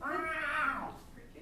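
A cat gives a single drawn-out meow with a rising then falling pitch, fairly clear and moderately close, outside in the bushes near a one-story home at night among crickets.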